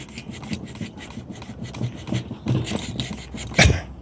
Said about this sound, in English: Yeah, a little bit of scraping there